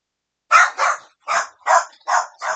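Dogs bark close and loud indoors, six sharp barks in quick succession after a brief silence, with no other sound.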